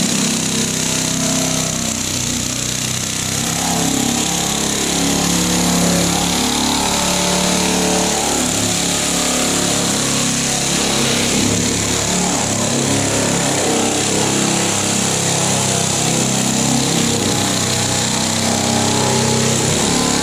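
Power sander grinding fiberglass body filler on a 1968 Mustang quarter panel, a loud, continuous buzzing roar that runs without a break for about twenty seconds and drowns out everything else.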